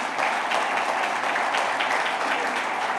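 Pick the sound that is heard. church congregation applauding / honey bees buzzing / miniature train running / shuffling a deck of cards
church congregation applauding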